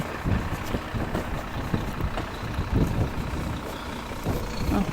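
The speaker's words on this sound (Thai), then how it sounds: "รถมา" A car approaches along a snow-covered road in Denmark during a windy snowstorm, its engine rumbling steadily beneath heavy wind noise.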